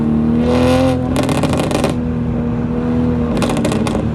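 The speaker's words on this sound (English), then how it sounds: "Loud exhaust?" A loud car exhaust pops and crackles in rapid bursts over a steady, rumbling engine drone, the crackling coming in two or three separate spells.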